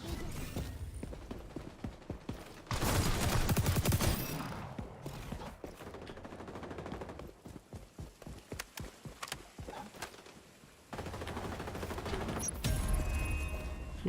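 Gunfire from enemy players in the shooter game XDefiant rings out in loud bursts and scattered sharp cracks amid busy game noise, with heavy sustained blasts near the start and end.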